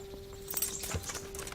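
Horse hooves clip-clop at a steady walking rhythm in the medieval video game Kingdom Come: Deliverance, with soft, moderately close footfalls over a faint, constant background tone, and no talk.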